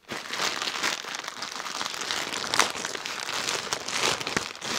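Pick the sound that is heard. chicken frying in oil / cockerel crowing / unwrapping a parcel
unwrapping a parcel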